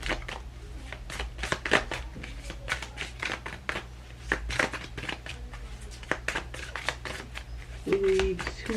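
A deck of reading cards is shuffled in a rapid run of crisp riffling and flicking bursts, close and steady throughout, with a soft voice faintly heard near the end.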